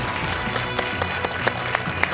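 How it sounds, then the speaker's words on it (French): Applause on the TV quiz show Questions pour un Champion, a steady wash of studio clapping with occasional sharper claps standing out. "Joël applaudit, j'applaudis."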